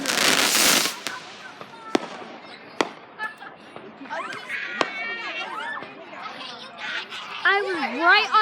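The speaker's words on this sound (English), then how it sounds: "Get you guys back when the fireworks really go in." Fireworks bursting overhead at close range: an opening rush of crackle, then several sharp bangs spaced a second or two apart, while people nearby chatter and laugh.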